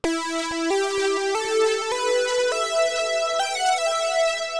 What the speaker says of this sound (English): I brought in this big epic lead sound,